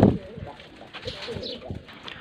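Homing pigeons coo softly in a loft, low repeated throaty calls close by with faint rustling and a bump at the start.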